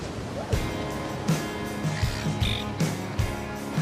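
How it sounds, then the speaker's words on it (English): Ocean waves break on a reef in a steady rushing surf, with rhythmic crashes rising and falling, loud and close, and no talk. "These waves are perfect for working on your takeoffs."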